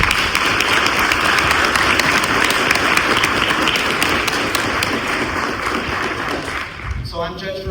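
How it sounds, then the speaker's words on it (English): An audience at a debate held in a courthouse breaks into sustained, fairly loud applause that tapers off near the end, followed by a voice speaking. "I want to give a round of applause to our audience."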